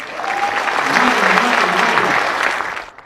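An audience claps together for a poster designer, a dense burst of applause swelling quickly and holding steady before fading out near the end.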